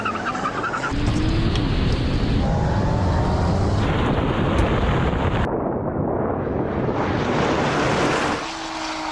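A rebuilt Porsche 911 Turbo pulls hard on a second-gear roll-on, a loud, dense engine and rushing wind roar filling the whole stretch, steady and close, with a brief shift in tone midway and easing slightly at the end.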